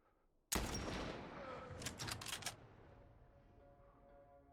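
Gunfire in The Last of Us Part 1: a sudden loud shot opens a burst of several rapid cracks, then the sound fades to a low game backdrop.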